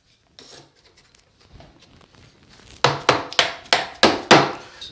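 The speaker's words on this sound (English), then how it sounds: "I'm going to cut this shim, maybe a couple more shims down" Wooden shim being cut during a bathroom remodel: about five or six loud, sharp rasping strokes in quick succession toward the end, preceded by faint handling noises.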